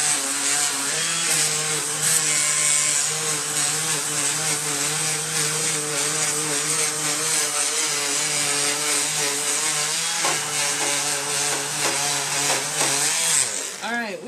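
A power sander whines steadily against wood, its pitch shifting slightly as it works, then winds down near the end.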